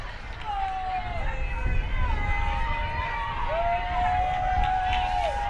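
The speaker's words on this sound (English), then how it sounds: "Crowd still going wild as the play moves towards them." Crowd cheering and roaring at a women's rugby union varsity match in Sheffield, a steady loud wash of voices with sustained whistle-like tones rising over it, and a commentator's voice running throughout.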